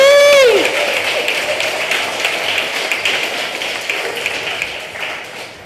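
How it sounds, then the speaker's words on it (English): Audience clapping at a Lā Kūʻokoʻa gathering in Lāhainā, Maui, a steady patter of many hands with a few cheers, starting full and gradually thinning out. "Come on, round of applause."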